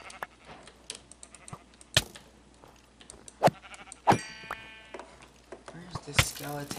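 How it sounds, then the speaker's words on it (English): Sheep in a video game bleat a few times in short, separate calls among sharp game clicks and sound effects, with a voice talking over it. "ooh, a sheep that might be useful for its wool"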